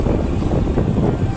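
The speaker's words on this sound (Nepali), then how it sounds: "हावा पनि आइरहेछ" Wind gusts buffeting the microphone outdoors on the way to a village, a steady loud low rumble with no talk over it.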